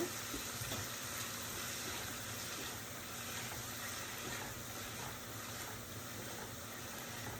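Tomatoes sizzling and frying in a pan for sambar, a steady dense crackling hiss that holds at an even level throughout, close up with no talk.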